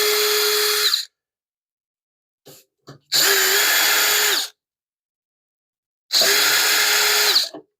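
A power drill backs out panel screws on a Dewalt DW735 planer, three loud, close whirring bursts of about a second each separated by silence, with a couple of faint clicks between them.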